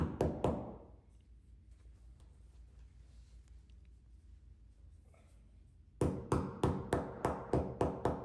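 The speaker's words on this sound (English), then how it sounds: "I would recommend using a rubber end mallet or a rubber hammer just to tap them in and secure them in place." Rubber mallet tapping plastic anchors into drilled bathroom wall tile: a quick burst of sharp taps, a quiet pause with faint background, then a steady run of about eight evenly spaced close knocks.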